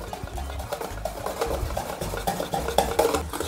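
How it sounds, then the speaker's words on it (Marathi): Dhokla batter with lemon-flavoured Eno is whisked in a bowl, continuous close scraping and tapping strokes against the container with uneven rhythm and no voices. "आता हे छान परत एकदा फेटून घ्यायचं।"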